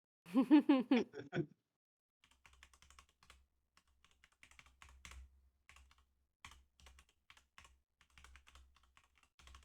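Typing on a computer keyboard: scattered, quick, light keystrokes in irregular bursts, close and fairly quiet, following a brief voice at the start.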